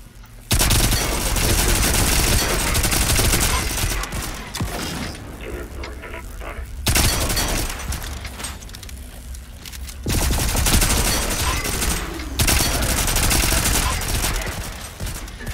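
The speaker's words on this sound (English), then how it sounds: "That's actually a turret. Come on, fire." A turret in the survival video game Volcanoids fires in loud, dense automatic bursts, with rapid repeated shots in several long volleys separated by short lulls.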